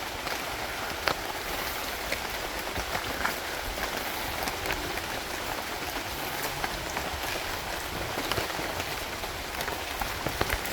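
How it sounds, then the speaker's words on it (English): Rain falls steadily in a Hawaiian rainforest, a constant hiss with scattered drops pattering on leaves and surfaces nearby, no voices. "Definitely a rainforest, and it is actually raining."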